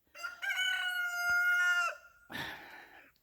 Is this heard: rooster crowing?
yes